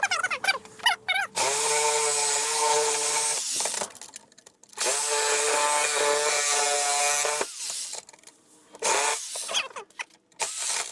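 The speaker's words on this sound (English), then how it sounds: "I just break down and get the saws all out" Power saws and tools cut through material for a homemade propane forge build, loud whining bursts with stops between cuts, a steady harmonic drone rising and pausing over roughly eleven seconds with no talking.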